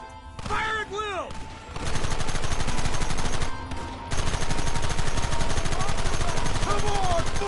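Sustained, dense gunfire from the Western video game Red Dead Redemption: rapid automatic bursts and overlapping shots fill the whole stretch, loud and close, with a short lull midway and shouting mixed into the din.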